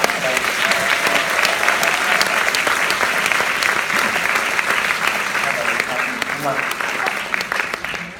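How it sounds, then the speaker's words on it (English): Loud, sustained applause from a large crowd, dense clapping that carries evenly from start to finish with a few cheers mixed in. "if we could give a huge round of applause for Laurentine Ten Bosch, my wife"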